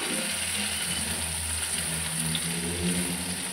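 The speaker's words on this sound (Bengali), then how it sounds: "সবজিটাকেও ভাজা ভাজা করার জন্য বসিয়ে দিয়ে আর কি নাড়াচাড়া করে নিচ্ছি" Vegetables sizzle and crackle steadily in a hot pan as they are stirred, a close, continuous frying hiss with no voices.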